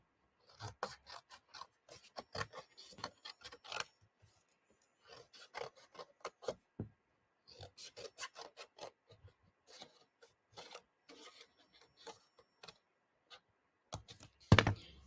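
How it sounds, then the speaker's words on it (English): Paper card stock is cut out by hand with scissors, giving a series of crisp, close snips and rasps in irregular bursts with short pauses between them. "let me just cut this out a little bit"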